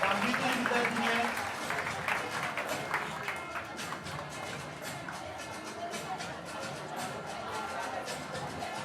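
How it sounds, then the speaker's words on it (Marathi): An audience applauding a student at a school prize distribution: dense, continuous clapping from a crowd that holds steady throughout, with a few voices audible beneath it. "तिच्यासाठी जोरदार टाळ्या वाजवायच्या"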